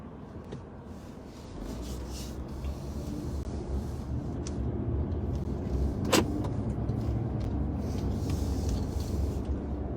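Road traffic passes in a steady, moderately loud wash of car engine and tire noise, one sharp knock partway through, with no one talking.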